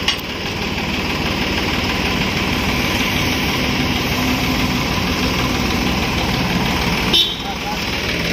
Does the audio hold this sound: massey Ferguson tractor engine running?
yes